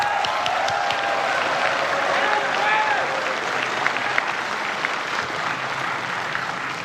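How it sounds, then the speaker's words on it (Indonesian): An audience at the 2014 Indonesian presidential and vice-presidential debate applauds in a dense, sustained wash of clapping that holds steady, then eases slightly toward the end. "Kita berikan tepuk tangan kalau itu."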